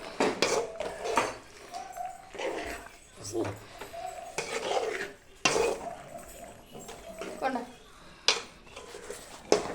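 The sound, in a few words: stirring pasta in a pot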